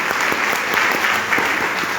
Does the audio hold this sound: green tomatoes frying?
no